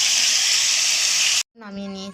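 Food frying with salt in a pan during biryani preparation, a loud steady close sizzle that cuts off abruptly, followed by a brief voice.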